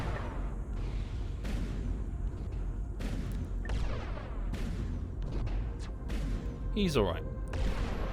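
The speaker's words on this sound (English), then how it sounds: "According to this, we have a Flak artillery array." Flak artillery array firing aboard a spaceship in X3: Albion Prelude, a series of sharp, irregular blasts over a low hum while someone speaks briefly.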